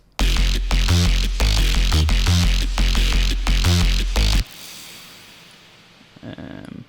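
A layered drum and bass bassline pounds in heavy, evenly spaced hits with punchy drums for about four seconds, then cuts off abruptly, leaving a quiet tail and a short faint sound near the end.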